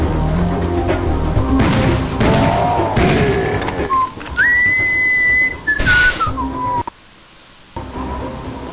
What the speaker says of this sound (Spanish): Y no, no soy yo el que silbó. Es Sam.